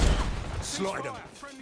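Gunfire in the Black Ops 6 multiplayer beta, a heavy close burst of shots that booms at the start and then fades, with a voice talking over the tail.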